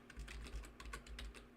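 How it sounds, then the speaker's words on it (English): Quiet typing on a computer keyboard during a casual streaming chat, a soft irregular patter of keystrokes over a low steady hum, no speech. "I'm gonna type it in chat."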